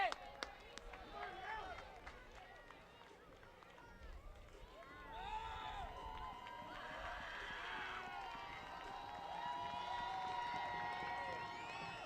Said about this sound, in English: Crowd trying to pick up Alex Dubord